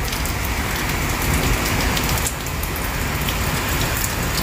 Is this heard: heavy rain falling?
yes